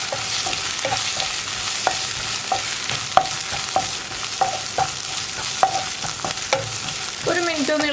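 Ginger-garlic paste with curry leaves fries in a pan while a spoon stirs it, scraping and tapping in an uneven rhythm over a soft, steady sizzle, close and clear with no talking.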